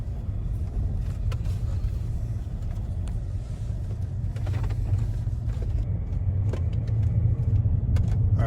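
Interior rumble of a BMW 7 Series on a test drive while stuck in limp mode, a steady low engine and road drone with light rattles and clicks, no talking.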